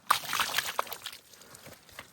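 A small splash of water is poured to rinse a pig carcass during home butchering in a Ukrainian village, giving short sloshing and trickling bursts, close and fairly quiet, with no talk.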